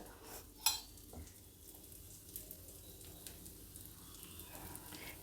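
A dosa cooking on a hot pan with a little oil and ghee gives a faint, steady low sizzle with a few soft scrapes and one sharp clink near the start, quiet and close.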